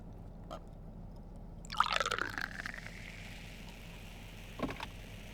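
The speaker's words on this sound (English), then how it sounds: "Let's pour it though, shall we?" Dr Pepper Hot Take soda pours into a glass: one short, splashy gush of liquid that quickly fades to faint fizzing, with a single drip or clink near the end.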